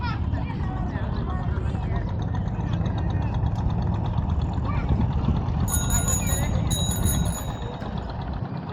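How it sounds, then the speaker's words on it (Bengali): A river trawler boat's engine drones as a steady low rumble throughout, with a voice heard over it and a brief high ringing chime near the end as the boat passes. "আর ওই যে একটা ট্রলার যাইতেছে"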